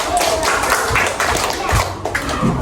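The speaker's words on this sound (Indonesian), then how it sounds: "Tepuk tangan dulu buat Rahman anak." A third-grade primary school class claps in a brief burst of scattered applause, with voices mixed in.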